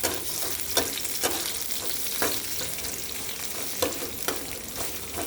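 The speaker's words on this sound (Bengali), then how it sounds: "পেঁয়াজটা একটু ভেজে নেব।" Chopped onion frying with jute greens in a village kitchen, a steady loud sizzle with soft repeated stirring scrapes at irregular intervals, close by and without talk.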